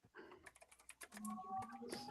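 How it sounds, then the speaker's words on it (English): Rapid, uneven clicking of fingers typing on a computer keyboard, close and fairly quiet, with a faint tonal sound creeping in toward the end. "So I was typing"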